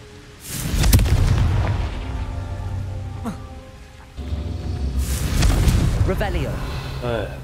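Confringo blasting spells in Hogwarts Legacy go off as two heavy booming blasts with rumbling decay, loud and near, mixed with crackling debris and game sound effects.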